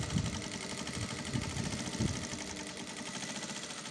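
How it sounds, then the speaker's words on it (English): A sewing machine stitches a knife-pleated skirt close to where the waistband begins, giving a steady, low mechanical whir with a few slightly louder surges and no talking. "I'm just going to sew just close to where my waistband begins"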